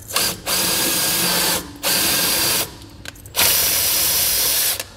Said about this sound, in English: Now we'll take our drill here.